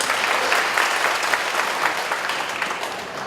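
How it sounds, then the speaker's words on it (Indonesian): Audience applause at a district community gathering in Bandung, a dense steady wash of many hands clapping, fairly loud and continuous without voices. "tepuk tangan untuk Ujung Berung"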